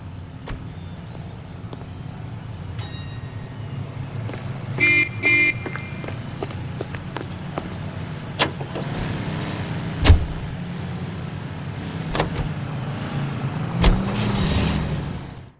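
Car driving in the video game LA Noire: a low steady engine drone with scattered clicks, a brief horn-like toot and passing traffic noises, moderately loud, no talk.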